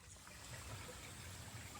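Water trickling and gushing steadily from a small waterfall at the end of a forest reservoir, a continuous even wash of flowing water heard alone at low level.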